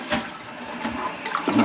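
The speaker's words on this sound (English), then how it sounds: "We have a working toilet, Nick." A toilet flushing in a renovated house: a steady rush of water that swells and fades over a short stretch, fairly close and with no voices.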